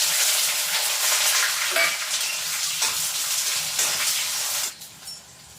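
Mustard seeds, bay leaf, chilli and onion fry in hot oil with a loud, continuous close sizzle and scraping stirs, dropping quieter near the end.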